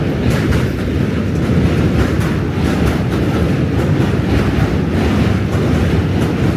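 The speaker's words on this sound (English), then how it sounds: "Q-train coming." A New York City subway Q train passes outdoors with a loud, continuous rolling rumble and rattle that stays steady throughout, mixed with buffeting wind noise and no speech.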